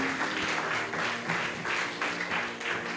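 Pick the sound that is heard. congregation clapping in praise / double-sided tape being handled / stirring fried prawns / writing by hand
congregation clapping in praise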